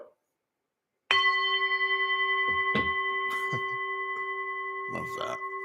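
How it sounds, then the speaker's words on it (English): A single bell is struck once and rings out with clear sustained tones that slowly decay, with brief bursts of voices and cheering over the lingering ring. "ring the bell"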